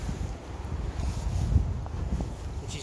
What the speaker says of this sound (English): if you can hear the wind and rain through that